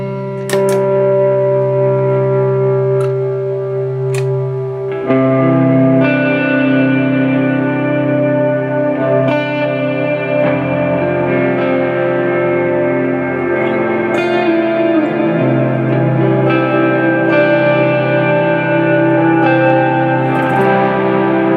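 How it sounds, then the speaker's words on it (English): An electric guitar played through shimmer and long reverb effects rings out in sustained, layered chords whose octave-up shimmer and drawn-out tails blend into a continuous wash, loud and alone for about twenty seconds. "I was looking for that kind of that shimmer tone, or also the really elongated reverb."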